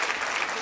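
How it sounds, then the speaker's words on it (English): A crowd at a political comedy speech applauds in a brief, steady wash of clapping. "Give her a round of applause."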